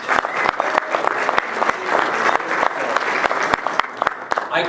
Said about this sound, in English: Give Carol a round of applause.